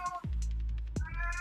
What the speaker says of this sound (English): cat's there